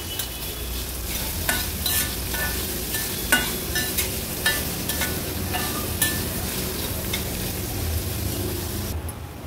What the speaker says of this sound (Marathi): गॅसची फ्लेम लो टू मीडियम वर ठेवून कांदा पण व्यवस्थित शिजवून घेऊया।